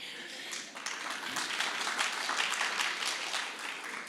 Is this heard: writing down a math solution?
no